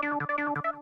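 An initialized Sylenth synthesizer patch plays a short run of plain, buzzy sustained notes in a steady rhythm, each tone rich in stacked harmonics, clean and dry with no other sounds.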